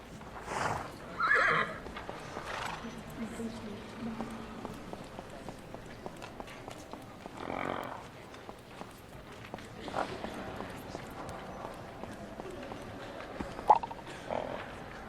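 Horse neighs and clip-clopping hooves in the Nintendo Switch riding game My Little Riding Champion, several whinnies spaced across the span over soft, steady footfalls, fairly quiet and without speech.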